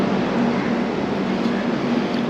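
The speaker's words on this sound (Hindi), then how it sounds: "और हमारी ट्रेन डिपार्ट हो चली है काचीगुड़ा रेलवे स्टेशन से।" Train pulling out of Kacheguda railway station on the Wainganga Express, a steady loud rumble with a faint low hum, heard from on board throughout and without voices.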